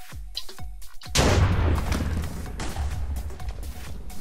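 In a Minecraft weapon mod game, a cannon fires a cannonball with a loud deep boom and crackling blast that fades into a rumbling tail, following a few short thuds.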